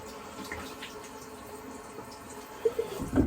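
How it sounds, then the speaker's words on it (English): Tap water runs steadily at moderate level while a face is rinsed at a sink, with louder splashing bursts near the end. "So I'm gonna rinse that off really quick."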